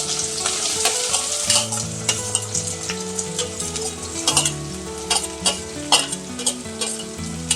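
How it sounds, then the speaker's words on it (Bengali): Chopped onions, about two large ones, fry in a pan for sauce chicken, a steady loud sizzle with frequent spoon scrapes and clinks as they are stirred until browned. "পেঁয়াজটা খুব ভালো করে মানে লাল লাল করে আমি ভেজে নিচ্ছি।"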